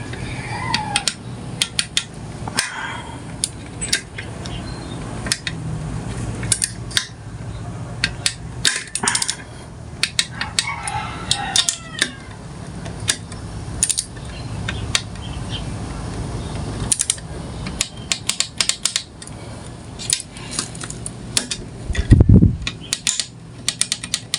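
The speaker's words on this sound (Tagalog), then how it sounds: "saktong sakto na yung higpit kapag ka lumagitik or pumitik na itong ating torque wrench" Crankcase screws on a Yamaha Mio Sporty motorcycle engine are tightened with a torque wrench, making dense, irregular metallic ticks, clatter and clicks over a steady fan-like hum, with a heavy thud near the end.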